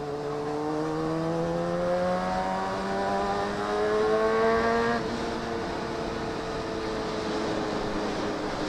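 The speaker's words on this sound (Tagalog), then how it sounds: "Konting piga mo lang, hiyaw na hiyaw talaga. Iba talaga pag sports bike." A 2007 Honda CBR600RR sports bike engine revs hard, its pitch climbing steadily to a high scream before it drops back and settles into a lower, steady drone, loud and close with no talking.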